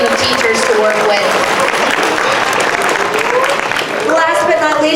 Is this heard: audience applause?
yes